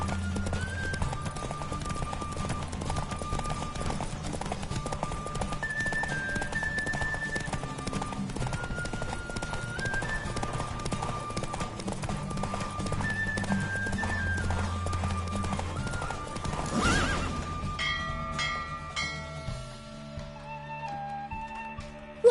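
Rhythmic hoofbeats of a galloping horse in The Witcher 3: Wild Hunt clip-clop continuously over a musical backdrop, with a whinny near the end as the galloping slows.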